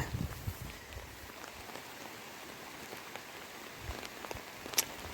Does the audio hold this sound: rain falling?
yes